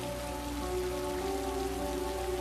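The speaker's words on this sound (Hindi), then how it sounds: "बारिश बहुत तेज हो रही है।" Heavy rain pours down steadily and loudly, a dense, continuous hiss of drops drumming on surfaces with no voices over it.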